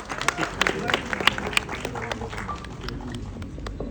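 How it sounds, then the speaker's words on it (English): Audience applause at a film trailer launch event, scattered claps and crowd noise with a few sharp louder hits, a voice speaking over the crowd. "can we have a big round of applause for Satyaraj sir?"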